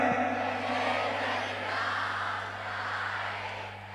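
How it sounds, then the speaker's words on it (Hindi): A crowd of young people cheers at a live concert in Srinagar Garhwal, a steady distant roar with no distinct claps, held at an even moderate level over a low steady hum. "देखिए ये आवाज है उत्तराखंड के युवा की"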